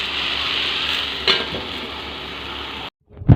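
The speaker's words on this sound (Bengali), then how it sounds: "এখন আমি রান্না করছি আলু বেগুন দিয়ে তেল দিয়ে চচ্চড়ি" Potato and brinjal fry in oil in a wok with a steady, close sizzle that runs unbroken, one sharper crackle partway through, before the sizzling cuts off abruptly and a brief clatter follows.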